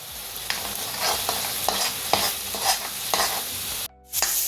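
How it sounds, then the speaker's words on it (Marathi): Spice masala of turmeric, coriander powder, Byadgi red chilli powder and homemade masala is stirred and sautéed in a pan for a Konkani fish thali, a dense close sizzle with repeated scraping strokes that cuts out briefly near the end. "हे बघा मसाला छान परतत आलाय."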